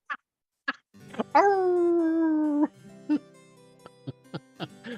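A dog barks in short yips and then lets out a long, sustained howl, with more sharp barks and whimpers scattered around it, fairly close and clear.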